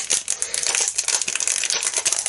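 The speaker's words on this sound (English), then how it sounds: "Sorry for all the crinkling." A new plastic packet of dimensional foam pads for card making crinkles and crackles loudly and close up, with dense, continuous rustling throughout.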